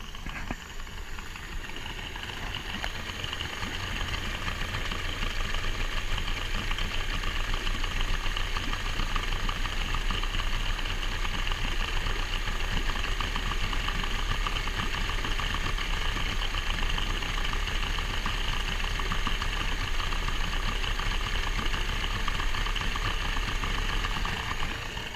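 A motor with carburettors starts after sitting unused for 12 months and settles into a steady, rough, rumbling idle, close and continuous throughout with no talking.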